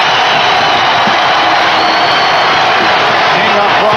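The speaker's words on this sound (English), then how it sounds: "That gets the crowd going." A packed arena crowd at an NBA Finals game roars in a sustained wall of cheering and whooping, loud and steady throughout, with no break in the noise.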